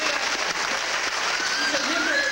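A children's musical audience claps for a drummer from the Houston Symphony, a steady, even wash of applause filling the whole moment with voices faintly mixed in.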